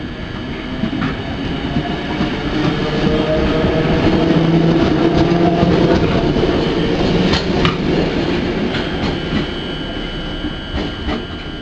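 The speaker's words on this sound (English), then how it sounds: "his train went like this" A train rumbles steadily along the rails, with rhythmic clacking and occasional metallic squeals over a continuous loud roar.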